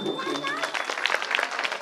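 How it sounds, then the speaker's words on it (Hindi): Listeners at a Manas mandali religious gathering break into scattered clapping that builds over a voice and sustained tonal sounds, growing denser toward the end. "बेटी मन के लिए ताली बजा दो"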